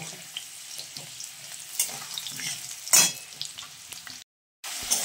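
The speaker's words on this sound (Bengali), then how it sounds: "আলু খোসা ছাড়িয়ে আর টুকরো টুকরো করে কেটে ছ্যাঁকা তেলে আমি ভেজে নেব।" Peeled potato pieces fry in hot oil, a soft close sizzle broken by scraping stirs and a sharper crackle near the middle before a brief cut to silence.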